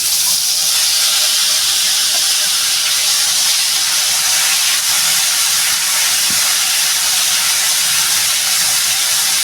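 Ground spice paste hits hot oil in a pan during Bengali home cooking, giving a loud, close, continuous hissing sizzle that holds steady throughout.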